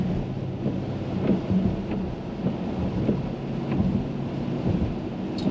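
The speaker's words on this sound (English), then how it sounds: "it's a rainy day here in the Washington DC area" Rain on a wet day around Washington DC, heard from inside a moving Mercedes-Benz GLS550 SUV, as a steady low rumble of road and tire noise with faint spatters against the body.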